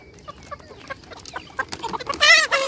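Chickens and a rooster cluck on a farm in a steady scatter of short calls, rising into a louder, busier burst of fowl noise near the end, with no talk over them.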